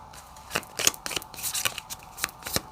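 A card drawn from a tarot-style deck: a quick series of crisp paper slides, flicks and snaps, close and dry, several short rustles in rapid uneven rhythm.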